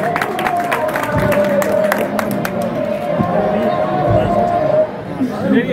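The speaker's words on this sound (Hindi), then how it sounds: "सभी लोग जोरदार तालियां बजाते रहे थोड़ा थोड़ा।" Loud crowd at a village political rally in Nachauli, steady applause and chatter filling the whole stretch, with cheering voices mixed in and a tonal hum running underneath.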